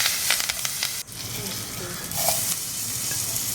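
Fresh curry leaves crackle and sizzle in hot oil with hing, with a steady broad frying hiss, a few stirring scrapes, and one brief dip partway through.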